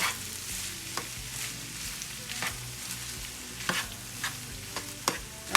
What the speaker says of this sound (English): right now I'm just stirring all this together.